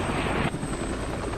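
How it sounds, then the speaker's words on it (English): Super Stallion military helicopters carrying Marines lift off on a rescue mission, a loud continuous rotor and engine roar. "the rescue mission lifts off. 2 Super Stallion helicopters carrying 43 Marines are followed by 2 Cobra gunships and 4 Harrier jump jets"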